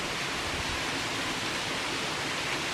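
A free-falling waterfall with a cascade in Bankhead National Forest, Alabama, gives off a steady, broad roar of rushing water with no voices over it.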